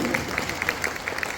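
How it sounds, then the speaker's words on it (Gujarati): Audience at a senior citizens' club annual celebration applauding, quiet scattered claps heard from a distance at low level. "આપણે સૌ તેમને તાળીઓના ગડગડાટથી વધાવી લઈશું."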